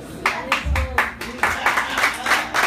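An audience applauds a singer at a music show, with rhythmic clapping in regular bursts under a speaking voice.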